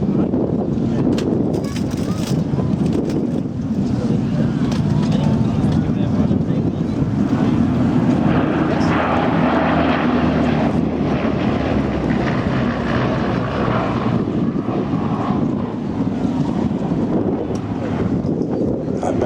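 A Bristol Blenheim aircraft flies at the Throckmorton Airshow in 2015, its engine drone loud and continuous throughout, partly buried in heavy wind noise on the microphone.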